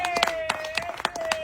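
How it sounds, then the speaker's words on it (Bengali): Spectators at a fun game challenge clap in a quick, steady rhythm of sharp beats, with a sustained tone running underneath. "সবাই একটা জোরে তালি হবে।"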